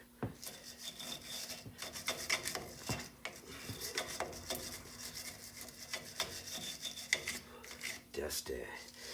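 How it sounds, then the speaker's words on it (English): A wire brush scrubs a metal brake hub on a Ford Econoline E-150 van, a steady close harsh rasping with rhythmic strokes and metallic scraping throughout. "Wire brush in where the angle grinder couldn't get."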